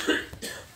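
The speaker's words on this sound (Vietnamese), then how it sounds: "Em mình ho quá" A single short cough, close and fairly loud, with a throaty burst and a second weaker push, heard alone during a football video game session.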